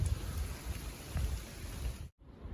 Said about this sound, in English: once this hail has stopped.